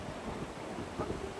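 Rushing water from a waterfall in Taiwan, a steady broadband roar with no distinct events, fairly close and unbroken.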